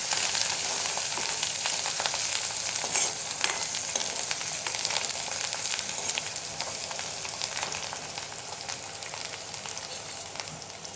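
Onion fries in a pan, a steady, crackling sizzle that hisses on evenly throughout with no voices.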